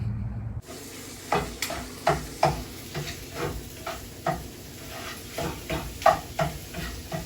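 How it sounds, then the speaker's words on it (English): Breakfast cooking in a home kitchen: a steady sizzle of frying runs throughout, broken by repeated soft clinks and scrapes of stirring utensils against a pan, fairly close and moderately loud. "My wife was in the kitchen cooking our breakfast."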